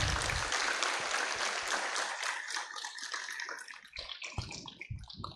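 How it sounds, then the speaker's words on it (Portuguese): Listeners at a class session applaud a teacher. The clapping is brisk and crowded at first, then thins and fades, ending in a few scattered claps. "Salva de palmas de novo para ela"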